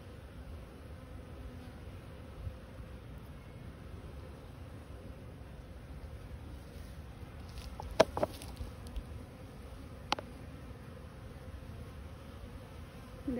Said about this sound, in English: They're working really hard.